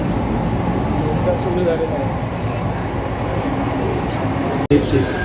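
Inside a Mumbai Metro Line 3 underground train running from Aarey-JVLR toward BKC, a steady low rumble and hum fill the carriage. A brief sharp dropout comes near the end.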